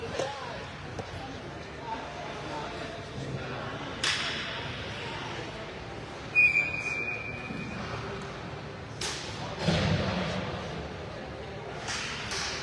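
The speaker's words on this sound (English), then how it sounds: "here's the whistle" A referee's whistle blows once, briefly and shrilly, at a junior ice hockey game between the Islanders and the Philadelphia Jr. Flyers. It cuts through continuous play-by-play commentary and arena rumble with scattered stick and puck knocks.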